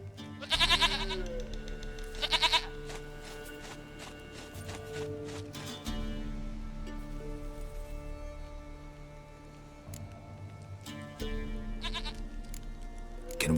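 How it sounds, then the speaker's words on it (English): Goat bleating in The Witcher 3 video game, two short nasal bleats near the start, then a third around eleven seconds, over a steady low game ambience and music drone. "Goat of mine, dearest, sweetest goat."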